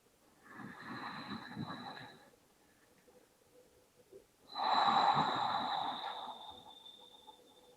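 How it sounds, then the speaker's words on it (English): Ujjayi breathing during a gentle yoga flow, drawn slowly in and out through the nose: two long, airy, hissing breaths near the microphone with a quiet pause between them. "that inhale through your nose and that exhale through your nose"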